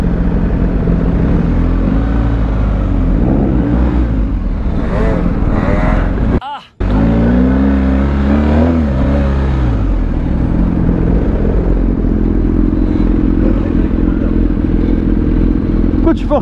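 Motorcycle engine droning loudly and steadily up close, with a brief cutout midway followed by rising and falling revs, while people talk over it.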